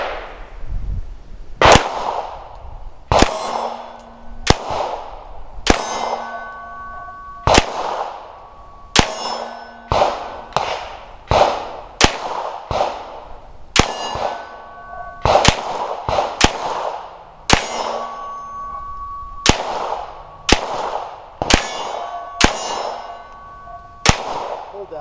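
Polymer 80 pistol fitted with Strike Industries sights fired at steel targets on a range, with a steady series of sharp shots each followed by a ringing metallic clang, loud and evenly spaced.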